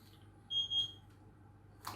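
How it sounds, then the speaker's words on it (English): A kitchen cooker timer goes off during the cooking of chicken tikka masala with pilau rice: two short, high electronic beeps in quick succession, faint against a quiet room, with a brief clatter at the end. "Beeping. Should be ready."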